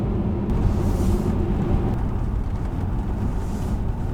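A Saab 9-3 Turbo X cruises along a road, heard from inside as a steady low rumble of engine and tyre noise with a constant wash of road roar and no talking.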